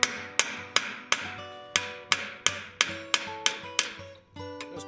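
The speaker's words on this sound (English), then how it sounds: "Just pin it down into the rivet set." Hammer blows setting a 3/16 inch brass round head rivet into a rivet set on a forged coffin handle: about eleven sharp, ringing metallic strikes at a steady pace, close and alone.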